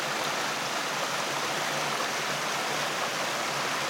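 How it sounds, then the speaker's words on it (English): Waterfall on the Chattooga River roaring as a steady, dense wash of rushing water, loud and close, unbroken throughout with no talking. "Look, I got the waterfall right behind you."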